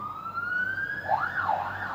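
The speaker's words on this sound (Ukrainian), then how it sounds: "бачите, сирена" A siren wails in an occupied city, first a long rising tone and then a quicker up-and-down yelp, fairly faint and distant against a low background hum.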